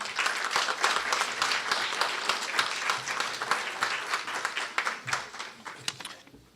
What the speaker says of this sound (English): they all collectively deserve another round of applause